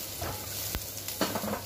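Finely chopped ginger frying in hot oil for pav bhaji makes a brief, steady close sizzle with a few soft stirring scrapes.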